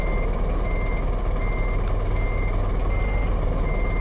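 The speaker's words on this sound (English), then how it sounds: "What is eventful these days is me out reversing in this truck." A truck reversing: steady engine rumble under regular reversing beeps, heard close and continuous for the whole stretch.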